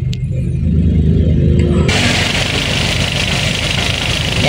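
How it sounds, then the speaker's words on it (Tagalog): A Toyota Corolla 2E engine idles around 800 RPM with a steady low rumble and vibration, growing louder and fuller partway through as the motor settles into a constant hum. "andar po yung makina natin, andar ngayon, maandar po yan"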